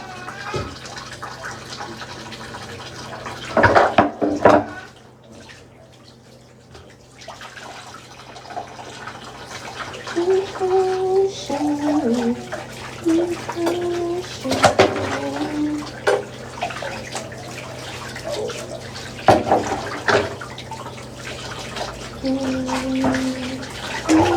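Water runs steadily into a motel bathtub during dishwashing, a continuous rushing wash broken by clinks and short tonal squeaks, with a louder splashy burst near the start and near the end, close by and with no talk.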